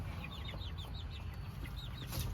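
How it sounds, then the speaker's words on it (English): Rapid high-pitched peeping from several small birds, repeated chirps over a steady low background rumble. "They do sound like little baby birds."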